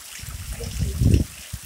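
Rain falling at dawn in São Miguel, Caucaia, a steady close trickle of water with a brief louder swell of splashing midway.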